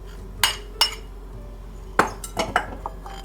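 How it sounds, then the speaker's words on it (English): Herbs and grated onion drop into a big glass bowl for Persian kuku sabzi, with a few sharp close glassy clinks and taps spaced irregularly over a quiet kitchen hum. "we're going to put the herbs in a big glass bowl. Then we're going to add the grated onion."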